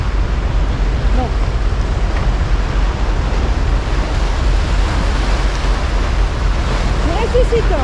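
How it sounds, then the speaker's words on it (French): Ocean waves crash near the shore in stormy wind, a loud continuous roar of surf with buffeting wind noise and occasional vocal exclamations. "Oh, les vagues qui arrivent dessus là."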